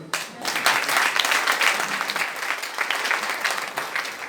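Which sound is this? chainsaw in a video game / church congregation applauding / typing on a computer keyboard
church congregation applauding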